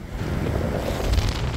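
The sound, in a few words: wind on the Holderness coast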